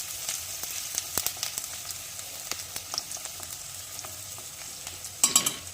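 Finely chopped onions fry in hot oil in a pan, giving a steady close sizzle. Scattered crackles and pops rise above it, and a few louder spatters or stirring clicks come near the end.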